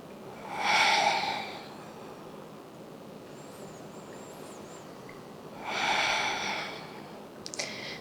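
Two deep, slow breaths during a yoga flow, each a soft, airy rush of air a few seconds apart, close and clear over a quiet background.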